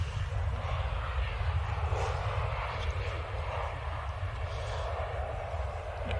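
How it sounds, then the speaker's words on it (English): A Loganair ATR 72 turboprop comes inbound to land at Manchester Airport runway 23L, its engines a steady, moderately loud low drone held at a distance throughout. "Oscar Yankee Romeo Uniform Alpha ATR 72 operating for Loganair"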